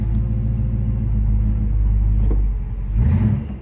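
A car fitted with a manual valve body and a Hurst ratchet shifter, apparently in reverse with the brake on, idles with a steady low engine rumble, then briefly revs and strains forward near the end, close and fairly loud.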